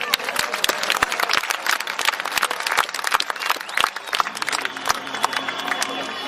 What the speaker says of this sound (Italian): Un applauso a Teodoro Manca.